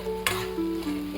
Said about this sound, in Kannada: ಅನ್ನ ಹಾಕ್ಬಿಟ್ಟು ಫ್ರೈ ಮಾಡೋದು.